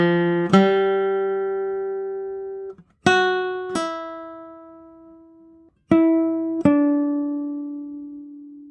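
Sustained musical tones played in pairs a whole step apart, each note struck cleanly and ringing with rich harmonics before the next, several separate pitches heard alone without talk.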